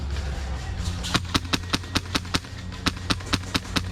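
An airsoft MP5 fires a string of about a dozen sharp, evenly spaced shots outdoors during a woodland game, loud and close over a steady background of wind or motor hum.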